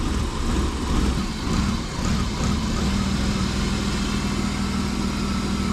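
A steady, low engine rumble from a high-mileage BMW M50 engine idles continuously at moderate loudness, with no speech over it.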